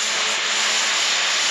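A quick saw slicing through a metal railing makes a brief, loud, steady harsh roar with no talking.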